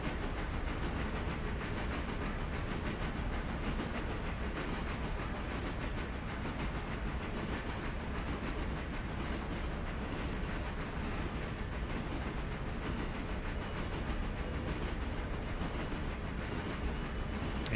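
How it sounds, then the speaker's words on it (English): Locomotive rumble carries into the front car of a train in the railroad game RailRoader, a continuous, even, moderately loud clattering roar with no talking over it. "Here, there's less locomotive noise."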